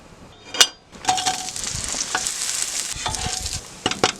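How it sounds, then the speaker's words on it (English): Onions sizzle in a hot pan at a campsite cookout, with a utensil stirring and scraping through the hissing fry, plus a couple of brief clinks at the start and end. "We're gonna start by sauteing some onions in this pan."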